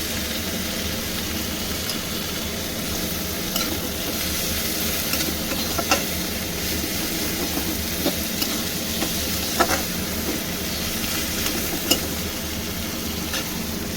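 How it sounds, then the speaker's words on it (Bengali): Tomatoes with a pinch of salt softening in a hot pan for a Bengali prawn and taro-stem curry, a continuous close sizzle broken by occasional sharp scrapes and clinks of the stirring spoon. "টমেটোটা এখানে একটু নেড়ে ছেড়ে নরম করে নেব।"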